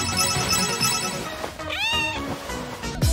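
A cat meows once, a short rising-falling call, over a busy background of music and room noise.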